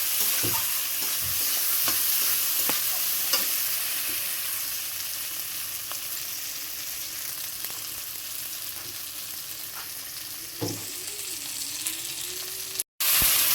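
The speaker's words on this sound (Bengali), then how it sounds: "আদা রসুন দিয়ে আমাদের একটু রেখে দিলাম। এখন নাড়িয়ে নেব।" Ginger-garlic paste fries in a pan with a constant close sizzle, broken by scattered scrapes and taps of a spoon stirring it. A brief dropout comes near the end and no voices are heard.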